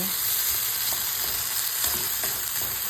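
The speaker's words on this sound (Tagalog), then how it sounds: "Kapag po siya ay gisang-gisa na" Corn sautéing in a pan with pepper and salt, giving a steady, close hiss of frying with faint stirring scrapes throughout.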